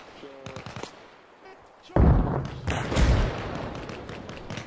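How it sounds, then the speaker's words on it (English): Grenade blasts in the military shooter Arma Reforger, a heavy booming burst followed by a second rumbling explosion amid scattered gunfire, loud and close. "Grenades out! Throwing grenades!"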